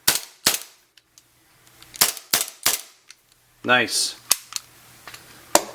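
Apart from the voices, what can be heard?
blowback airsoft pistol firing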